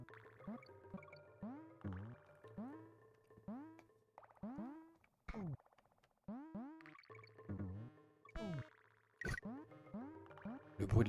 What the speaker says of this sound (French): Le bruit de l'abeille qu'on tape.